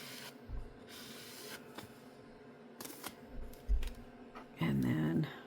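A scraper dragged across a stamping plate to clear excess ink or polish, giving a few short, close rubbing scrapes amid quiet handling noises, ending in a louder scratchy pass.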